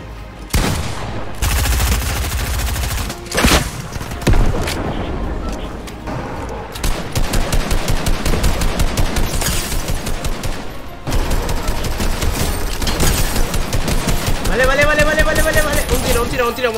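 Gunfire in the video game Fortnite, with rapid repeated shots in dense runs across most of the stretch, close and loud, and a voice talking over them in places.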